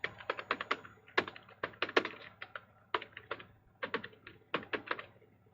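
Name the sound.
typing on a computer keyboard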